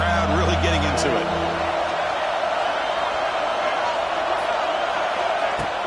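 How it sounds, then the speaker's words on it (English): A football stadium crowd roars in a broad, steady wash of cheering on third down, loud and continuous, while a commentator talks over it. "Third down and the crowd really getting into it."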